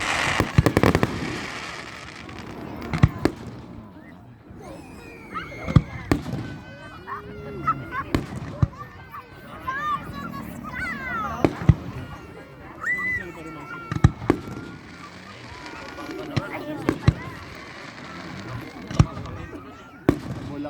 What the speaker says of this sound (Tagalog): Maganda ng mga fireworks.